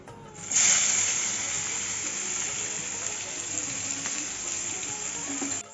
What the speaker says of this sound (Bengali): এখন পেঁয়াজ কুচিটা দিয়ে দেবো।